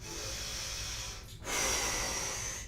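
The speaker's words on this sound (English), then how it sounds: "deep, powerful, rhythmic breaths" During a guided breathwork session, a deep, powerful breath is drawn in through the nose with a long, airy rush, then pushed out in a stronger, louder exhale, close and unaccompanied by talk.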